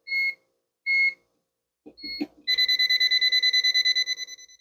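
An outlet tester plugged into a live household outlet gives two short separate beeps, then, after some faint clicking and handling noise, a rapid pulsing electronic tone that fades toward the end.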